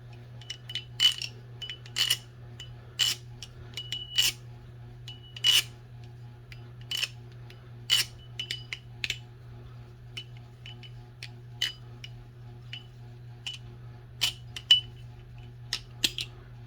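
A v3 Hellcat balisong knife being flipped, sharp metallic clicks and clacks at irregular intervals, some in quick pairs, over a low steady hum, close and crisp.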